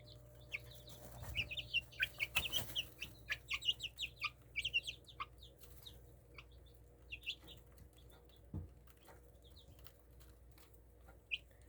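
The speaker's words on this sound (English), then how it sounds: "But all of the little chicks are taken care of." Chickens and little chicks cluck and chirp in a busy run of calls, then fewer later, with a soft flutter of wings, close by over a low steady hum; no one speaks.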